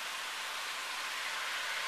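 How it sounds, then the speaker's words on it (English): Steady hail or freezing sleet coming down outdoors on an April day, a dense, even hiss of many small impacts with no breaks, fairly quiet and with no voices. "It's kind of a hail freezing thing."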